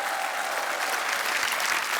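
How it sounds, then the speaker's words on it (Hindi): Studio audience applause on The Kapil Sharma Show, a comedy talk show: a thick, steady wash of clapping from a large crowd, even and sustained for the whole stretch, with no voices over it. "जोरदार तालियां एक बार।"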